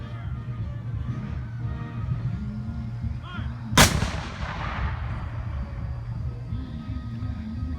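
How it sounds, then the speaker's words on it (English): A historical cannon fired at a state fair demonstration, one sudden loud boom that rolls off into a long fading rumble over steady outdoor background noise. "Now, take that sound and turn that into about 200 cannons going off at once."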